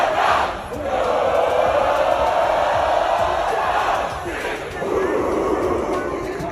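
A crowd at the ESPN College GameDay show roars and cheers in a sustained loud swell, dipping briefly then surging again, with shouting voices blended into the noise.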